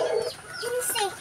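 Chickens clucking close by in a quick run of short, raspy calls, with farmyard background and faint voices.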